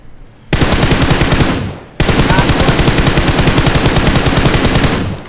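Rapid automatic gunfire in an online shooter game rings out in two loud sustained bursts, a short one followed by a longer one after a brief pause.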